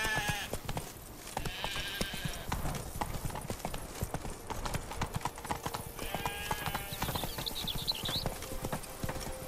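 Hooves clip-clop steadily at a gallop on a horse in The Witcher 3: Blood and Wine, set in Toussaint, with faint game ambience and brief bleat-like animal calls mixed in.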